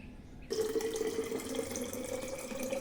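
Water pours steadily into a bottle after a short quiet start, a continuous close splashing fill running to the end with no talk.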